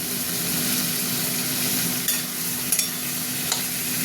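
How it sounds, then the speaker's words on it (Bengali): Potatoes and tomatoes fry in a pan over high gas, with a loud, steady sizzle throughout and a few light scrapes and clinks as they are stirred. No speech. "টমেটোর সাথেই আলুটা ভাজবো।"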